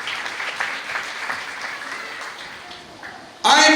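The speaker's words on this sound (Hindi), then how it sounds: "जोरदार तालियां बजाएं यीशु मसीह के लिए।" A congregation at a resurrection church service claps for Jesus Christ, a moderate continuous patter that softens gradually before a sudden loud burst of sound at the very end.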